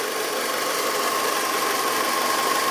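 A 2002 Honda CR-V engine idles steadily during a P1077 code check, giving a constant, even hum with a faint tonal whine and no speech.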